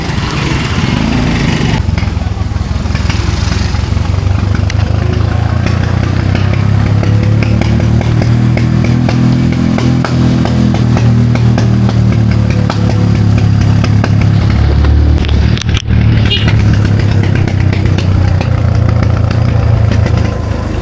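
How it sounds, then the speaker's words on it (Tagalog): A tricycle motorcycle engine runs steadily during a ride along Kasoy Street, a loud, close, buzzing drone with slight surges and a brief dip, continuing throughout with no voices. "Tayo sa tricycle."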